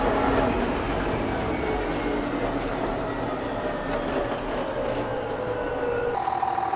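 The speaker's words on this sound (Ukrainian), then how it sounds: "Даємо газу і під горбок легко набирає оберти трактор." A John Deere 6610 tractor with a 114 hp engine revs as it climbs a small hill, a loud, steady diesel drone that holds at a constant pitch close to the microphone.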